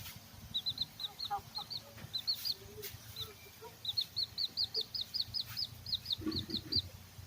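Young fighting-cock chicks peep rapidly during feeding, giving many quick, high chirps in steady bursts. The chirping is faint against a quiet background, with occasional soft clucks and rustling.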